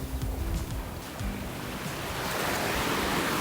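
Sea waves wash onto a beach on the Albanian coast in a steady, broad roar of surf, with some wind rumble against the microphone and no voices.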